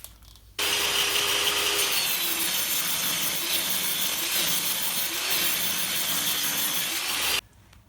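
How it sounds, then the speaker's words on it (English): Table saw cutting a rebate about 20mm deep in a wooden board held by feather boards against the fence: a steady, loud, high whine that starts abruptly, holds for several seconds, then cuts off. "That's one pass done with the saw"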